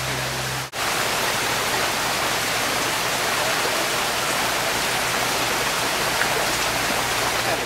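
A small creek branch runs right into Bowen's Creek past a garden, giving a steady, close, continuous rush of flowing water with no voices.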